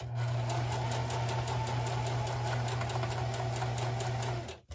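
A sewing machine stitches a felt snowman hat, running in one steady fast rhythmic whir with a low motor hum for several seconds before stopping abruptly, close and loud, no speech.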